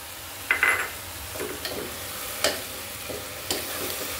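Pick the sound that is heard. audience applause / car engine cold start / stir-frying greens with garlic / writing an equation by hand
stir-frying greens with garlic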